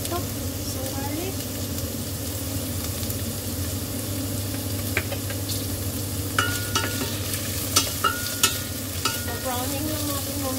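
Onion and garlic browning in a pan, a steady sizzle under a low hum, with scattered crisp pops and utensil taps toward the end, and faint voice in the background.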